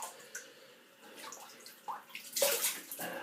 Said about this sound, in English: Excuse me while I get some more water and rinse properly.